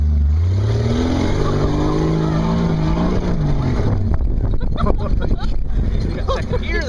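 A vehicle engine revs hard in second gear, loud and close, its pitch climbing steadily and then breaking into rougher, choppy roaring toward the end, all under excited voices.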